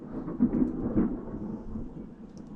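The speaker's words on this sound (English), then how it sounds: "And a big thunderstorm." Low, rolling thunder from a thunderstorm rumbles quietly in the distance, swelling briefly and then fading into a steady, muffled grumble.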